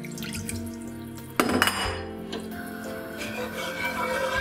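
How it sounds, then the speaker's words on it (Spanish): Water is poured from a vessel into a pot of white beans with pumpkin, a short splashing pour with clinks of cookware, then gentle liquid sounds as it settles. "Pongo un poco de agua"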